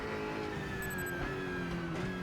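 A BMW M6 GT3 race car engine in the Automobilista 2, RaceRoom or Assetto Corsa Competizione racing sim holds a loud, steady roar with a rising, slightly wavering whine, broad and continuous with no talk.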